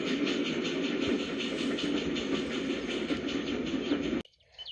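An animated steam engine rumbles away with a dense, rhythmic chuffing and clatter, loud and steady, then stops abruptly near the end.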